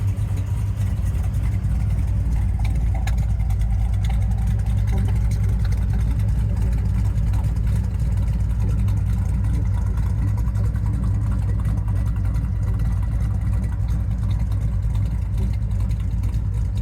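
A 1967 Plymouth Barracuda Formula S with a 383 V8, four-speed and a lumpy cam, idling steadily with a deep, loping rumble close by and no talking.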